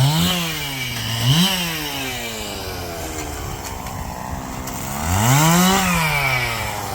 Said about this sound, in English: Once you give a guy a chainsaw, watch out.